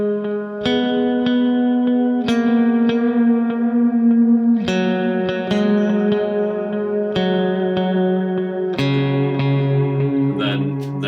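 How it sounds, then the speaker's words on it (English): A clean electric guitar picks a series of notes through a dotted-eighth-note delay from a Strymon TimeLine, each trailed by repeating echoes in a skipping, syncopated rhythm that leaves a long shimmering tail. "Then I have a dotted eighth note delay that I use for the verses"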